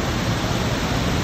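A steep waterfall in a forested Oregon canyon, heard as a steady, dense roar of falling water that holds constant and loud for its whole length, with no voices over it.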